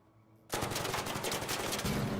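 Two turrets in a video game open fire suddenly after a brief quiet moment, unleashing loud, continuous rapid-fire bursts that rattle on without pause.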